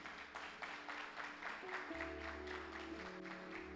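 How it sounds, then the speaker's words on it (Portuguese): A church congregation breaks into applause, a continuous patter of many hands with distinct individual claps, while sustained keyboard or organ tones hum steadily underneath. "Dá uma salva de palmas para o campo do repouso aqui,"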